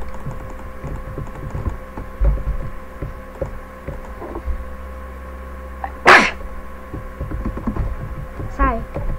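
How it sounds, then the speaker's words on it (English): A single sudden sneeze bursts out partway through, loud and close, over soft computer keyboard typing and a low electrical hum. "Sorry for the sneeze."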